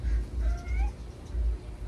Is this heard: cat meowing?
yes